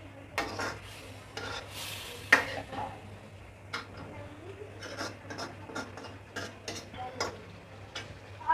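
Mutton karahi stirred and fried in oil in a wok, with repeated sharp scraping and tapping strokes at an uneven rhythm over a steady low background hum, close and moderately loud.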